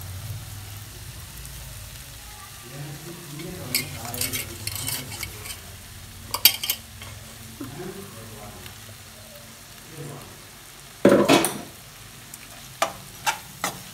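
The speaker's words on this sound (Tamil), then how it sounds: "இதையும் நல்லா இந்த எண்ணெயிலே போட்டு நல்லா பரட்டிக்கலாம்." Ground masala of garlic and ginger fries in oil in a pan for a Kerala chicken curry, a low steady sizzle broken by spoon scrapes and clinks against the pan.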